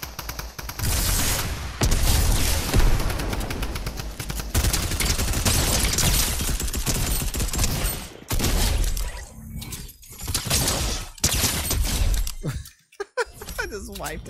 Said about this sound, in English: That was me with the grenade launcher.